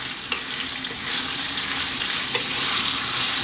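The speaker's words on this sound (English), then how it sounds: "Stirring often, just want to kind of get it on its way, a nice head start." Bone-in lamb fries over medium heat in a pot for a Greek stew, a loud continuous close sizzle with occasional stirring scrapes and no talking.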